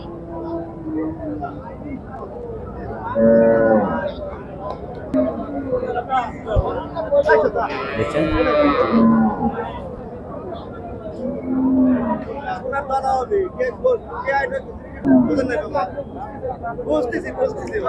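Dairy cows, Australian Friesian crossbreds, at the Talgachhi cattle market in Shahjadpur, Sirajganj, give a few low moos that rise over constant crowd chatter and the bustle of a busy livestock fair.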